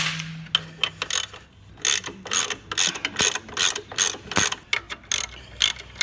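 A ratchet clicks in quick, uneven bursts while tightening a 15mm nut and bolt on the alternator of a Ford Focus Mk2 1.6 Zetec, close and fairly loud with short pauses between strokes.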